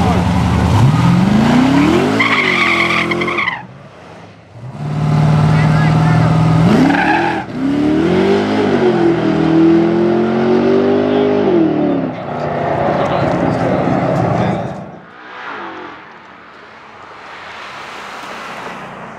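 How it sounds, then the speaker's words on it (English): A Chevrolet Corvette launching in a drag race, loud engine revs rising through gears in several bursts with tire noise, pausing briefly between surges as it roars away. "Second buy run, Tim Rigby's Vet. Made a pretty decent launch."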